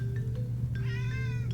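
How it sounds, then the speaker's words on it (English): A cat meows a few times, drawn-out tonal cries rising and wavering, over a steady low hum in the room. "If you hear meowing, it's just my cat."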